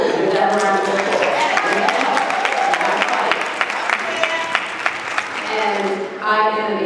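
An audience claps at a parent summit's motherhood brunch panel, a steady patter of hands that runs through most of the stretch while a person keeps talking over it.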